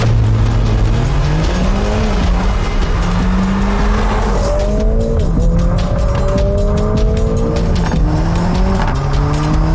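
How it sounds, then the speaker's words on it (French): A Mercedes-AMG A45 S four-cylinder launches hard from a standstill using launch control, its engine revving up loudly through rising pitches while tires squeal and skid, close and intense throughout. "on a fait un launch control il y a 2 secondes ici"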